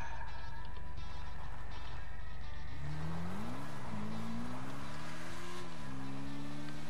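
Motorcycle engine from GTA V Online, a steady low drone that rises and falls in pitch as the rider accelerates and eases off, loud and close with no talking over it.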